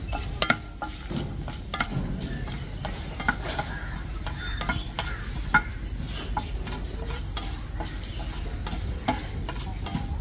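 Dried red chillies fry in a hot pan with a soft continuous sizzle, broken by frequent sharp clicks and scrapes of stirring against the metal.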